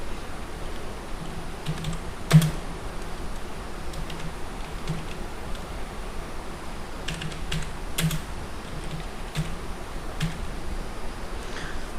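Keys tapping on a computer keyboard while text is typed during PowerPoint work, a steady run of light clicks close by with a few sharper strokes, no voice.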